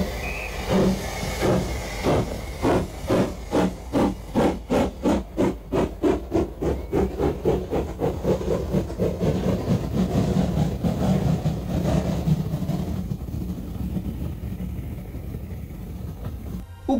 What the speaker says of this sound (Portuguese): O que você ouviu? Um som de trem.